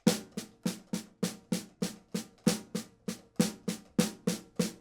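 Crisp snare drum strokes played in a steady, even stream, with a repeating sticking pattern and occasional louder accents, close and alone.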